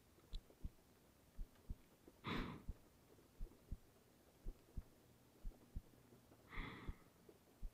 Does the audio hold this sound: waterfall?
no